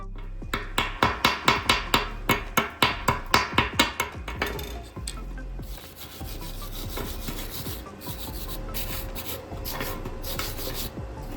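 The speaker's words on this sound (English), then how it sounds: "after welding there will be slag left at the weld points, which needs to be removed" A metal tool chips slag off fresh arc welds on old bearings, starting with a rapid run of sharp, evenly spaced knocks, then giving way to a loud, continuous grinding rasp, close up and without speech.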